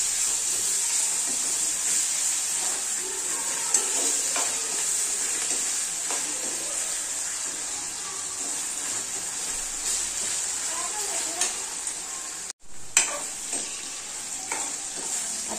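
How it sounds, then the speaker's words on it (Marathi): Ginger garlic paste sautéed in hot oil for a spicy matki usal, giving a steady close sizzle with soft stirring scrapes throughout and a brief dip near the end. "थोडीशी अद्रक लसूणची पेस्ट घातली. छान तेलामध्ये परतून घेऊया."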